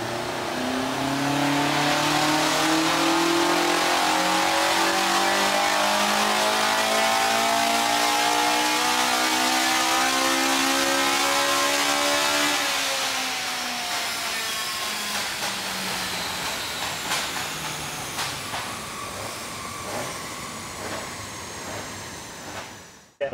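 A Toyota KE38 Corolla with a 5K engine on twin Weber carburettors revs hard and loud, climbing steadily in pitch toward nine thousand rpm for about twelve seconds, then easing off into a lower, settling engine note until the end.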